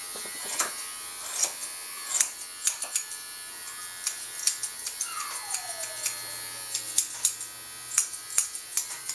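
Electric clippers with snap-on combs buzz steadily while grooming a dog, a faint continuous motor hum with small clicks and handling bumps throughout, no talk.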